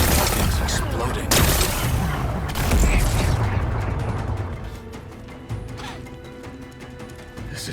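In Horizon Forbidden West, a series of heavy booms and rumbling blasts sounds among mechanical clanks and creaks, loud at first and then fading, with someone talking over the game.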